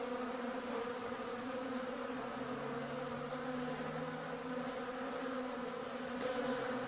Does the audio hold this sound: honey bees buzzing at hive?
yes